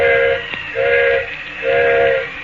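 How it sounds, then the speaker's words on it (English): A steam locomotive whistle sounds three times in short blasts separated by brief gaps, loud and close over a steady hiss of steam, with no voices. "Engineer's whistling for a flagman."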